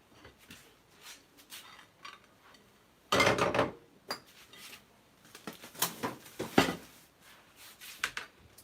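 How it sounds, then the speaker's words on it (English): A knife chops a single garlic clove on a board in a home kitchen during lasagne prep, giving a run of light, irregular taps with one louder clattering burst partway through, close and alone without talk. "So I'm just chopping this, just a single clove of garlic"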